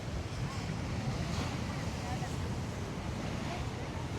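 Continuous roar of sea waves mixed with heavy wind buffeting the microphone, loud and unbroken throughout.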